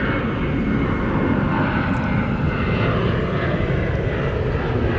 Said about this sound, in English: There's a nice airplane over there.